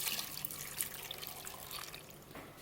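One cup of water poured into mutton karahi during cooking, a soft, steady liquid trickle and splash heard close and fairly faint, continuous for a couple of seconds with no talk.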